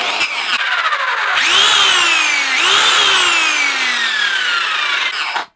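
A Bosch PBS 7 belt sander with its motor running but the belt not turning, loud and close, whining up in pitch twice and then slowly winding down in long gliding tones before cutting off.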